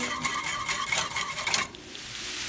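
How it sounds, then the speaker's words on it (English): A matcha green tea latte whisked into foam, a fast scratchy swishing up close that runs steadily for about a second and a half, then stops abruptly and leaves a faint hiss. "I'm gonna keep whisking away"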